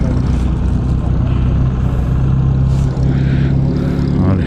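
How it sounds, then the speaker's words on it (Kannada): A supercar engine runs smooth and steady, loud and close throughout, a constant low drone with faint passing noise on top and no clear speech. "ಸಖತ್ ಸ್ಮೂತಾಗೈತೆ ಇಂಜಿನ್ ಸೌಂಡು"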